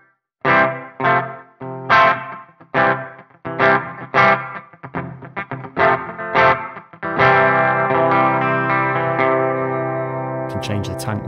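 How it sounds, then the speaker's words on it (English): Guitar through a Meris Mercury X reverb pedal on the 78 room setting: a run of separate plucked chords, each with a short room tail, then a sustained chord that rings on and decays slowly, with no talking. "So the 78 room sounds a bit like this"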